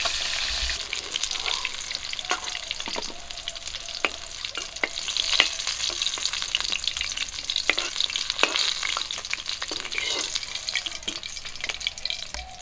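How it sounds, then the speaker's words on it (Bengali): Silver carp pieces fry in oil with a dense, steady sizzle and spitting crackles, punctuated by sharp pops and occasional stirring taps, close and fairly loud without speech. "বাকি মাছগুলো কিন্তু একই রকম করে ভেজে নেব।"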